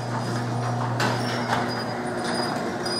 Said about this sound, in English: open up the garage door.